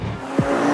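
A 2023 Porsche 911 Carrera GTS engine gives a quick, loud, close snap of revs held near the top of its range, a sharp burst over a steady mechanical drone.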